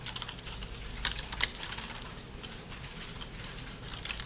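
Faint, steady typing on a computer keyboard while writing an SQL DISTINCT query, soft clicks running throughout with a couple of slightly sharper keystrokes near the start, against a quiet room hum.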